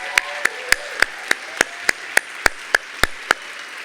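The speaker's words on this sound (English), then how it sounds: "Please give one last round of applause to your Rockford Region's incredibly talented nominees" Applause at the Rockford Area Arts Awards comes as a steady run of about a dozen crisp, evenly spaced claps in a strict rhythm, close and clear over low room noise.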